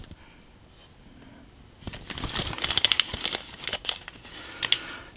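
Evergreen styrene plastic sheet being cut into small rectangles, giving close, quiet crisp snips and crinkly clicks in an irregular cluster after a near-silent start.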